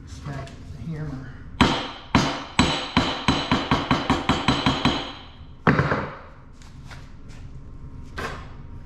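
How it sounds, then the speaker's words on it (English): Hammer blows on a curled piece of cut sheet metal for a custom hood molding: a loud, sharp strike, then a steady run of about a dozen quick ringing taps, followed by one more heavy hit and a fainter late tap. "smack the hammer."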